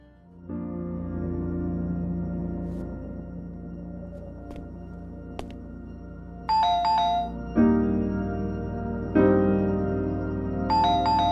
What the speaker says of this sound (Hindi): बॉस का फोन आ रहा है